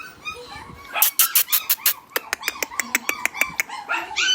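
Pomeranian puppies bark in a quick run of sharp, high yips, about a dozen close together in a steady rhythm, loud and near, with no talking over them.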